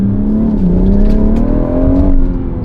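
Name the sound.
BMW M140i B58 engine accelerating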